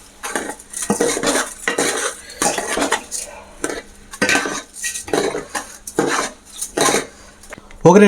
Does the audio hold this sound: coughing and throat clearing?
no